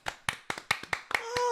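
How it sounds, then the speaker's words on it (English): A few people clap sparsely for a speaker's mother, with separate distinct claps in an uneven rhythm, close and moderately loud, ending as a voice comes in. "I would love to get a round of applause for this one for my mother"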